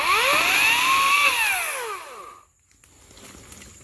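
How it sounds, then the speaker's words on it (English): A Ryobi 40V brushless battery chainsaw cuts through small limbs. Its high electric whine swells, wavers in pitch, then winds down and cuts out after about two and a half seconds, loud and close, leaving faint background noise. "one of the nice things about the battery powered or electric chainsaws is you don't have to worry about starting it up"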